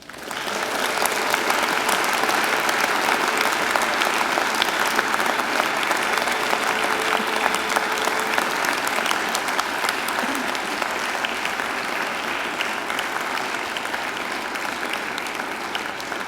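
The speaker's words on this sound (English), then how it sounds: "And now I invite you to give them a mighty round of applause." Sustained applause from a large audience at a university graduation ceremony, a dense steady roar of clapping that holds at even loudness throughout, with a faint tone briefly underneath.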